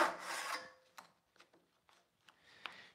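A Rob Cosman handsaw cuts wood tenons in a workshop, a dense rasping stroke at first, then several short, lighter scraping strokes spaced apart and fairly close.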